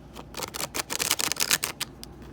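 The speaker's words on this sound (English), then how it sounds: "So it shuffles beautifully." An Ember and Aura tarot deck being shuffled, with quick bursts of riffling and card flutter repeating in close, crisp flurries.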